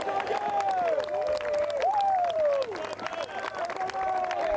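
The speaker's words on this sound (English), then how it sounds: "You can hear the crowd support for arguably the greatest golfer of all time." A golf gallery at St Andrews during the 150th Open applauds and cheers Tiger Woods' putt, a loud, sustained wall of clapping and shouting with whistles rising over it.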